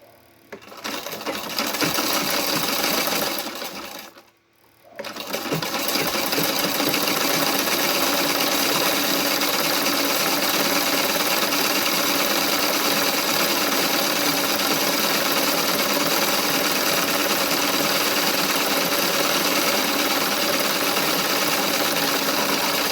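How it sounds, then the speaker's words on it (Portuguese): A sewing machine stitches a fabric border onto a dish towel, running loud and steady up close with one brief pause near the start, then a long continuous mechanical hum and rattle. "E agora a gente costura do outro ladinho."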